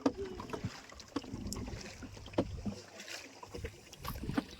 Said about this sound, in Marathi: आज आम्ही बोटिंग फिरायला आलो